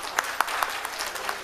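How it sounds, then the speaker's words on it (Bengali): Light audience clapping for the art teacher at a school's annual program, with a few distinct claps standing out in a brief, moderately faint patter. "একটু হাততালি দেবেন।"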